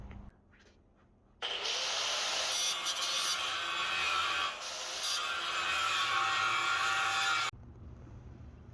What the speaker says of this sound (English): I just started cutting and there's some sparks